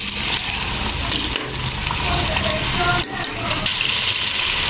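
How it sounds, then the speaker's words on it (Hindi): Beef trotters stirred into paya gravy with a spoon, a continuous loud bubbling sizzle with clinks and scraping of the spoon against the pot, close and unbroken. "अच्छी तरह इसको चम्मच की मदद से मिक्स कर लें।"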